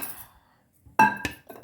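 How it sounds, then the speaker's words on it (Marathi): A cooking pot set down on a home stove in a Konkan kitchen where prawn soup is being made, heard as a sharp metallic clank with a brief ringing clatter after a near-silent pause. "हे बघा आता इथे मी टोप ठेवला आहे गरम करत"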